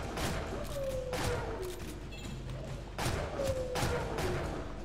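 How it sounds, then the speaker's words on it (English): Shotgun blasts in the side-scrolling action game Shank 2, with a heavy, repeated booming roughly once per second, evenly spaced and close, over a constant game soundtrack. "Two shotgun pumps and you're done."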